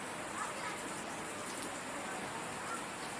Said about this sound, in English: we got to see some refreshing rain